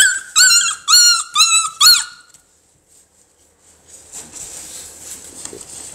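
American Bully puppies let out a quick run of five high, squeaky whimpers and yelps up close, then fall quiet before a faint, low rustle of movement.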